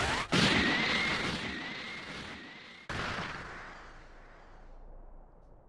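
A loud, sustained blast of roaring noise with a high sweeping whine, cutting out briefly then resurging before fading away: the Special Beam Cannon energy beam attack in the video game Dragon Ball Sparking Zero.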